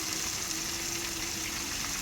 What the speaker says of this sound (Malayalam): എണ്ണയിൽ മറിച്ചിടാം.